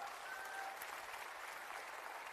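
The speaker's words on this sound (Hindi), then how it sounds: "जोरदार ताली दोस्तों" An audience at a business event in Lucknow applauds steadily, a dense, uniform patter of clapping heard from a distance at low volume, with no voices over it.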